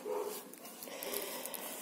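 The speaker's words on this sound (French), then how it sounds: "j'ai les chiens, ils ont dû voir quelqu'un passer dehors. Ils se sont mis à aboyer." Dogs indoors bark at someone passing outside, a couple of faint barks and yips heard at a distance beneath steady background noise.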